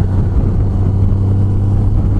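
A 2018 Honda Gold Wing motorcycle cruising, its engine a loud, steady low drone mixed with wind rush over the microphone, with no speech.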